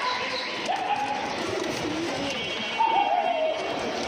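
Racing Giribaz pigeons coo close by in a loft, soft rolling calls rising over a continuous bed of background noise.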